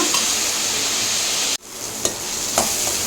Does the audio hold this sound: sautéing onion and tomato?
yes